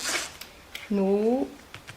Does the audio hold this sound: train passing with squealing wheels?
no